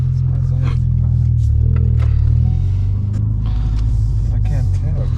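A Ford Focus RS engine idles roughly, giving a loud, close, uneven low rumble that holds throughout, with faint background clatter.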